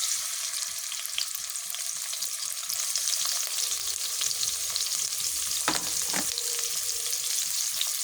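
Chopped onions and green chilies sizzle steadily in hot oil, a loud continuous frying hiss with a couple of brief clanks from stirring.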